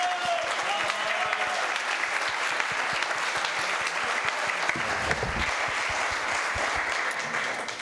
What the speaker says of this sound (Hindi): आपकी भरपूर तालियों में शानदार इस्तकबाल कीजिए